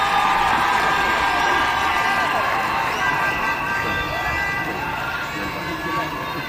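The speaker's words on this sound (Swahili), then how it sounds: "Makofi tafadhali." A large crowd cheers and applauds steadily throughout at the swearing-in ceremony of a Deputy President at KICC, a dense, continuous wash of clapping and voices.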